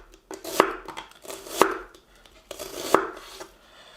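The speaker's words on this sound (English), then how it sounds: "we're just going to roughly peel the onions as well, and we're just going to cut them in slices like this" Three firm knife cuts through peeled onions on a board, each a sharp crisp chop with a brief crunchy tail, spaced roughly a second apart, close and clear with no talking.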